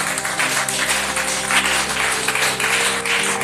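A church congregation applauding during a French-language sermon, a steady wash of dense clapping sustained at constant loudness over an organ-like tonal drone.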